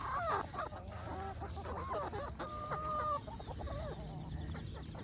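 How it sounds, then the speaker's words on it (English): Chickens clucking and calling nearby, several birds overlapping in a steady chatter with a faint high whine in the background. "look at all these chickens"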